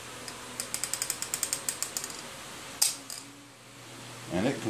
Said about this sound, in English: we have a special tool with a piston ring compressor. And what we do, we slip that over the top